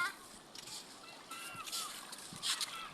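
A sea turtle splashes in water as it swims off after being released, giving soft irregular sloshes and splatters at close range while voices carry faintly in the background.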